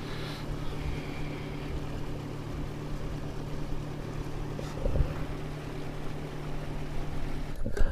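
A motorboat travels on the sea near Sveta Anastasia island off the Bulgarian coast, its engine a steady low droning hum with constant wind and water rush, close and unbroken.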